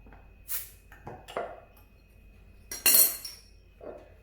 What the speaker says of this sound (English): Let's get this bottle open and check out what we got.